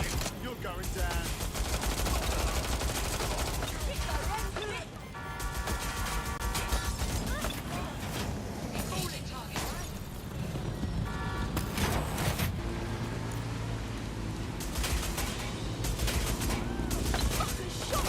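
Gunfire in the video game Watch Dogs Legion: dense, loud bursts of automatic fire and repeated shots over a busy mechanical, metallic soundscape, with brief lulls before the shooting resumes.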